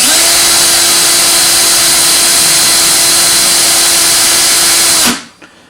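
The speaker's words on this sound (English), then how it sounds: "put it in my drill, and then started turning with the hacksaw blade" An electric drill spins an X-Acto blade against a hacksaw blade, giving a loud, steady whirring hiss with a high whine that runs unbroken, then cuts off abruptly near the end.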